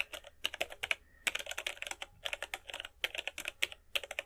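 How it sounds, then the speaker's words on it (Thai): An email address is typed on a computer keyboard in quick bursts of crisp, close key clicks with short pauses between groups of keystrokes, and nobody speaks. "อีเมลของเราสมัครเมื่อกี้นี่เราก็พิมพ์ใส่"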